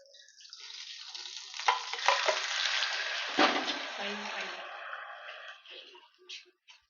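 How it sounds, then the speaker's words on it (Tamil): Steady close sizzling and crackling of an egg frying in hot oil on a griddle, swelling in the middle and tapering off, with no voice. "முட்டை பொரிக்கும் போது இந்த மாதிரி பபுள்ஸ் மாதிரி வந்தால் நல்லாயிருக்கும்"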